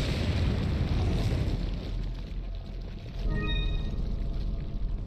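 A frag grenade goes off in Resident Evil 4, a loud, dense rumbling boom that fills the whole clip with low roar, briefly easing before swelling again, with a few faint ringing tones near the end.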